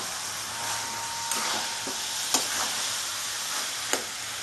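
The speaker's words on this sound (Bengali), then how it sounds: "তার জন্য একটু নাড়াচাড়া করবো দিয়ে গরম মশলাটা এর ওপর দিয়ে ছড়িয়ে দেবো দিয়ে আবার একটু নাড়াচাড়া করবো" Cabbage with sprinkled garam masala frying in a pan, a steady close sizzle with a few soft scraping clicks as it is stirred, no voices.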